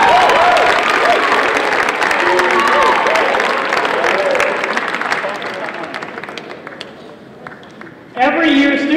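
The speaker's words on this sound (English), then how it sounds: "Please give a round of applause to all of our newcomers" A large audience at a university athletics awards ceremony claps loudly and continuously, a dense wash of applause that slowly thins and fades out before a voice begins speaking at the end.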